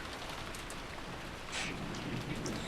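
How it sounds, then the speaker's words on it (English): A heavy downpour in the visual novel game Umineko pours down as a dense, continuous hiss of rain, swelling slightly louder partway through, with no voices. "As we opened the front door, the downpour was quite terrific."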